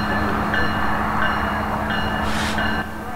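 Norfolk Southern freight train led by a pair of rebuilt diesel locomotives, SD70ACU and AC44C6M, heard as a steady, loud rumble of rolling cars and engines passing nearby, with no talking.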